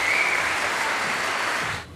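An audience at an Istanbul university project launch on entrepreneurship applauds to welcome a speaker to the stage, a dense, steady clapping that fades out at the end.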